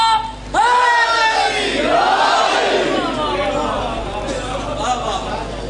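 A crowd at a Muharram majlis gathering shouts religious slogans in unison, loud, sustained voices swelling together and then trailing off into a dense roar over several seconds.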